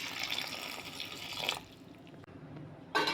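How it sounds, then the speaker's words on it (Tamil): A glass of water poured into cut vegetables in a pan while cooking Kerala-style aviyal, a short splashing pour followed by a brief pause and another splash. "1 கிளாஸ் தண்ணி ஊற்றிக்கோங்க."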